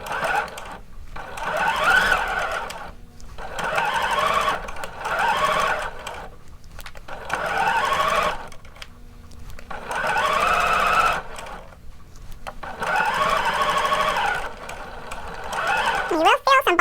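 A domestic sewing machine back stitches a seam on a pair of shorts in repeated loud whirring bursts of about two seconds each, separated by short pauses.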